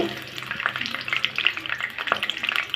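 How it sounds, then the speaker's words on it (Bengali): Chopped onion and a bay leaf frying in hot oil with slit green chillies, a bright crackling sizzle with bursts of spatter and occasional stirring scrapes, close and steady with no talking. "হালকা করে একটু ভেজে নিব।"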